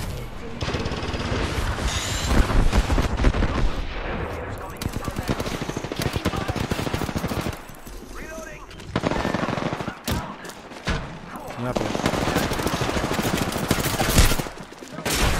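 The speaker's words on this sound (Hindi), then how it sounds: "दोनों साइड से फायर" Heavy automatic gunfire from several directions in an Apex Legends match, with rapid bursts and sustained sprays that keep up across most of the stretch, broken by short lulls and sharp impacts.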